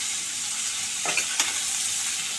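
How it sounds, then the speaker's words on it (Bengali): Flat beans fry lightly in a pan with a soft, continuous sizzle, broken by two quick scraping or clinking touches of a utensil midway. "অল্প একটুখানি ভেজে নেব"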